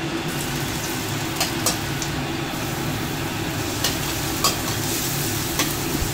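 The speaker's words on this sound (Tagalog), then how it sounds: "So, stir fry lang natin ang mga ingredients." Ingredients stir-fried in a pan for pork adobo, a constant close sizzle with periodic scraping and clicking of a spatula against the pan, even in loudness throughout.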